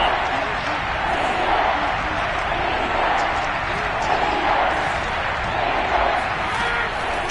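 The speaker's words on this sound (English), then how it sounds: "This crowd dying for a stop." Stadium crowd from the American football video game Madden 22 roars in a steady, dense wash that stays loud and even throughout, with faint swells but no distinct cheer peaks.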